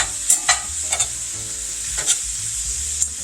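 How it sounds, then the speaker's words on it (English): Diced poblano peppers for a breakfast casserole hitting a hot pan, a steady close sizzle with a few sharp crackles and stirring scrapes, no voices. "So there goes a cup of poblano peppers cut into small squares."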